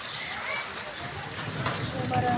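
Steady rain pours down on a village during a downpour, a dense even patter and hiss on surfaces, close and constant, with a brief spoken word over it.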